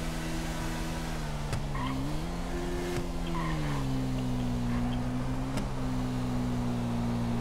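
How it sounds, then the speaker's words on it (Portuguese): A fast motorcycle rides in GTA 5, its engine a steady, buzzing drone that dips and rises slightly in pitch, with a few sharp clicks over the constant hum. "Essa moto é muito rápida"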